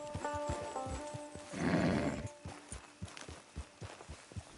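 A horse whinnies loudly in the middle of a PS4 video game, surrounded by a steady series of clip-clopping hoof beats and low rumbling ambience.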